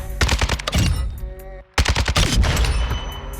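An RPK light machine gun fires in Modern Warfare 2: two loud, rapid bursts of sharp shots, cut by a brief silent gap, each burst rattling off many rounds.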